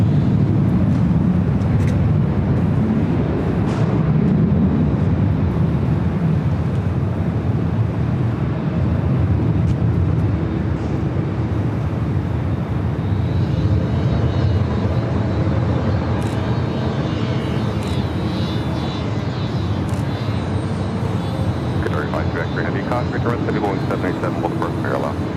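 A Boeing 787 Dreamliner airliner on the runway at LAX gives off a loud, sustained jet roar that swells and holds for the whole stretch, with radio voices over it.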